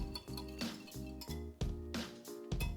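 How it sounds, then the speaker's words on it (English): A whisk clinks quickly against a bowl as wet ingredients are stirred, including warm dairy with almond and vanilla extract, making a rhythmic, close series of light metallic taps. "We're gonna whisk this together."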